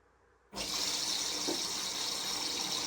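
Hot water gushes into a Bosch washing machine that keeps filling, starting abruptly after a moment of quiet and then running as a steady, loud hiss of flowing water.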